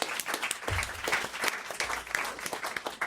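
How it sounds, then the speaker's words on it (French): A radio studio audience applauds, a burst of fairly faint, quick clapping from several people lasting about three seconds. "On vous applaudit."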